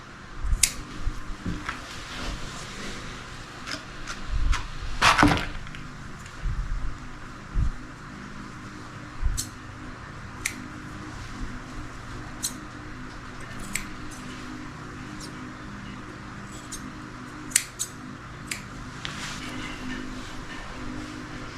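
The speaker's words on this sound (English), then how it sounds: "Just trimming up his ears, using my fingers as a guide so I don't accidentally cut his ear." Small grooming scissors snip at the ear fur of a senior Shih Tzu, producing quick, close, crisp clicks in scattered bursts and single cuts over a quiet background.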